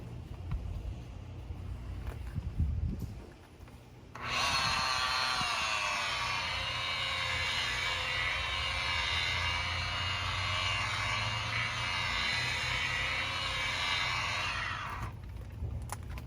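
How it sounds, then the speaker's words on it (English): A dual-action polisher runs at 600 RPM spreading polish on a boat's surface. A steady, close whirring hum comes in after a short pause, holds for about ten seconds, then cuts off. "Now I spread the polish on that at a 600 setting right here, 600 RPMs"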